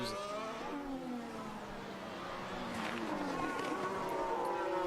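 Formula 1 car during qualifying at the United States Grand Prix in Austin, a distant high engine whine that rises and falls through braking and acceleration, fairly faint, with broadcast commentary-free background.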